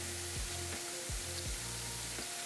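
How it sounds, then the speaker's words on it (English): Beef searing on a very hot surface gives a loud, dense, continuous sizzle up close, with a few low knocks as the pieces are moved. "Should I just not talk and just listen to the sizzle sounds, guys?"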